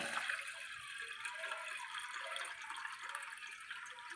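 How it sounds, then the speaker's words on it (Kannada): Water pours into a cooking pot for ragi mudde in a home kitchen, producing a faint, continuous splashing rush that holds steady throughout. "ಅಷ್ಟು ನೀರನ್ನು ಹಾಕುತ್ತಾ ಇದ್ದೇನೆ"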